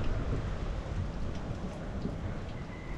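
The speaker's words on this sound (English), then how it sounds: "I think the rain should stop" Steady rain falls on Agatti Island in Lakshadweep, a dense, even hiss that holds at a moderate level throughout and has no voices over it.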